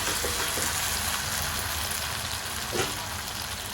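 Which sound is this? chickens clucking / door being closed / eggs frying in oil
eggs frying in oil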